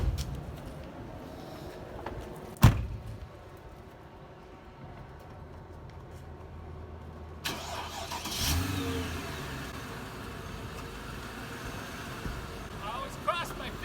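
A Mercedes-Benz car's engine cranks and catches with a sharp burst, then settles into a low idle, later rising again with more engine noise and some handling sounds nearby.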